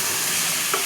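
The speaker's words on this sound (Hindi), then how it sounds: "अभी थोड़ा सा इसमें भून जाए" Lobia (black-eyed peas) frying in a pan, a dense close sizzle with faint stirring that continues without a break.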